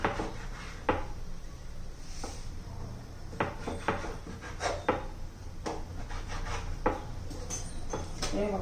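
A knife cuts leftover chapati into long strips on a wooden board, with repeated rubbing, scraping strokes and a few sharper taps, close and fairly quiet.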